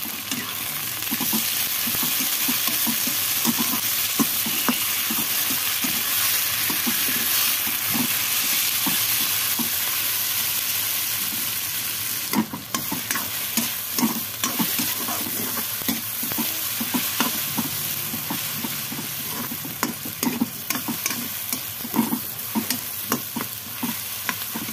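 Cauliflower and tomato frying in a pan for a spicy Wai Wai noodle dish, with steady loud sizzling and repeated stirring scrapes throughout, no talking.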